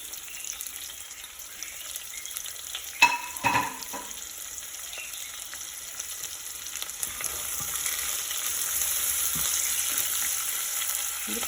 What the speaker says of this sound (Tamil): இப்போ நாங்கள் கொஞ்சம் எண்ணெய் ஊற்றி ஒனியன் கொஞ்சம் போடுவோம்